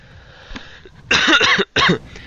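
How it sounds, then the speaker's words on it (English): Two harsh, close coughs in quick succession, loud and abrupt, following a brief quiet moment. "sorry for the cough, guys"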